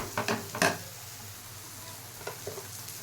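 Food is stirred around in a pan after salt and turmeric go in, giving a few quick scraping strokes near the start, then a faint sizzle with occasional soft taps from the utensil.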